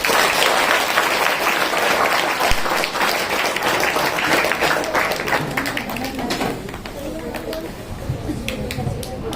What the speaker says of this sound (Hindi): एक और बार जोरदार ताली बजाएं।